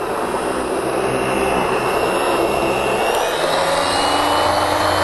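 A Kenmore built-in vacuum system runs with its Stealth brush attachment, whose brushes spin at 5,000 RPM. It makes a continuous, steady, close whooshing roar with a high airy whine, and no one talks.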